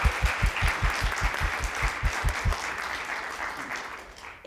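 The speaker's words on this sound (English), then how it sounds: "So let's give them a round of applause." Audience at a Pi Mu Epsilon mathematics conference claps for student speakers, a close, rhythmic round of applause that thins out and ends after about four seconds.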